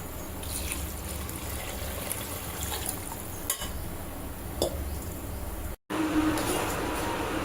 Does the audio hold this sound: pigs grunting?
no